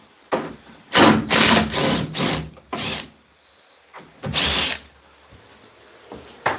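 A power drill drives screws into plywood inside a shipping container being turned into a wood shop, several loud whirring bursts of a second or so, separated by short gaps and fairly close.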